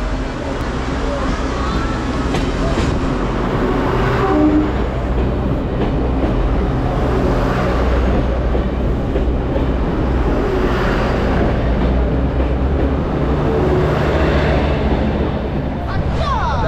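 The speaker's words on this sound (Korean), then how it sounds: "아, 기차 옵니다." Up close at Shifen, Taiwan, a train rolls past with a continuous heavy rumble and rattling wheels that stays loud for the whole stretch, with wind buffeting and some voices underneath.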